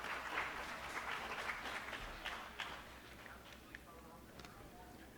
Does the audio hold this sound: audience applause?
yes